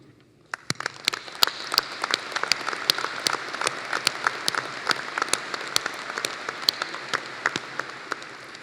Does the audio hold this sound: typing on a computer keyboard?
no